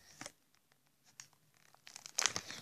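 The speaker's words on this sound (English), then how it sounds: "we have a bunch of strings to cut through" Quiet crinkling and tearing of Hasbro Littlest Pet Shop toy packaging as strings are cut, with small snips and pulls building to a louder rip near the end, close up and without talk.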